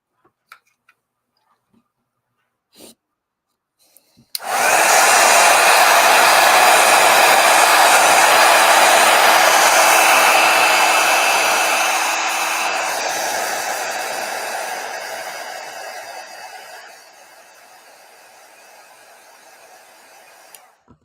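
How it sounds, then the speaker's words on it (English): A heat gun blows over watercolor paint, switching on abruptly after a few quiet ticks into a loud, steady airy roar that gradually softens over the following seconds before cutting off. "hit it with a heat gun"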